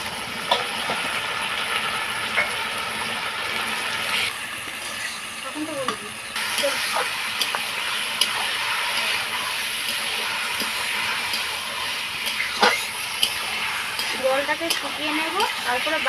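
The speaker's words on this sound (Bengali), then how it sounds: "এবার আমি মাংস দিয়ে কিছুক্ষণ ভেজে নেবো" Mutton pieces frying with onions already fried to a deep red in a pan, a steady broadband sizzle running throughout, with occasional clinks and scrapes of stirring and a voice speaking faintly in the background.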